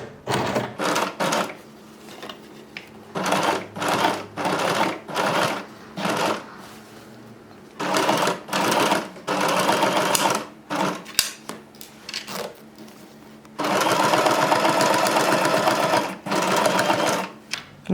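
Sewing machine stitching over a factory seam while making a zipper, running in repeated short bursts with brief pauses, then a longer steady run near the end, close and clear.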